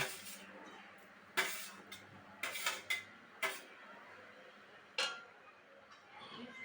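A spatula scrapes and knocks against a pan as fried vegetables are stirred and mixed with sago, giving several sharp clinks and scrapes at irregular intervals over a quiet background.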